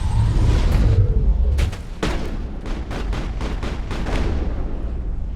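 A heavy boom opens a firefight in the video game Mass Effect, followed by a rapid run of sharp gunshots and impacts, loud and close, with rolling rumble underneath and no talk.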